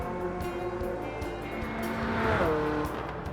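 A 1975 Ferrari 308 GTB in Gran Turismo 7 roars through a tunnel, its engine a steady, loud tonal howl that rises in pitch near the end with a brief tire squeal.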